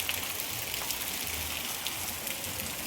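Heavy rain pours down in Porbandar, a steady, dense hiss of drops on surfaces that holds at an even, fairly loud level throughout with no voices.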